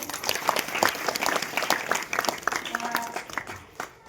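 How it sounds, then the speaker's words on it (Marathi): A crowd at a school ceremony claps steadily for about four seconds, dense applause with a few faint voices mixed in, tapering slightly near the end. "सर्वांनी एकदा टाळ्या वाजवायच्या आहेत"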